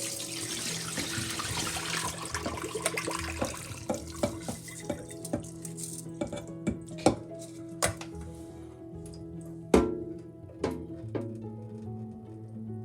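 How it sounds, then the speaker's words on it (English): Water sloshes and trickles in a container while rice is rinsed and drained, with scattered knocks and clinks of a pot throughout; no one speaks. "We wash this rice tubs, and we drain the water."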